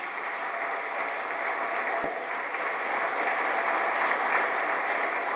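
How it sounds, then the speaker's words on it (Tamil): An audience applauds an honoured student at a felicitation ceremony, a dense, steady wash of many hands clapping at even loudness from start to finish, with no voices heard. "உங்களுடைய பலத்த கரகோஷத்தை எழுப்பும்படி கேட்டுக்கொள்கிறேன்"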